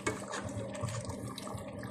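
Chicken for biryani boiling in a pot of water, a steady close bubbling and simmering wash that runs throughout without pause.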